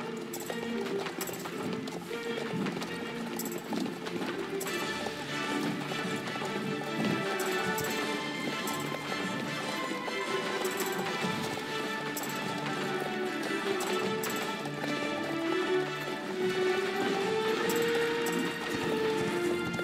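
Horses gallop in a race in the Star Stable video game, a steady quick clip-clop of hooves running without a break under game music, with no talking.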